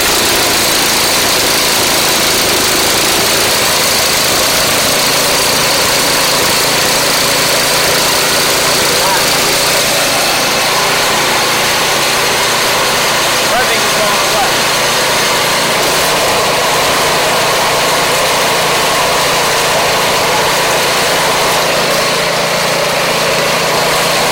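A Craftsman 179cc engine on a 24-inch snow blower runs loudly and continuously close by, with a slight change in tone partway through as its surging revs are adjusted.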